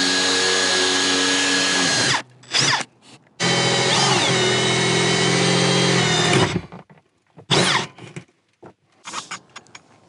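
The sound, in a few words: power drill drilling a hole through an RV roof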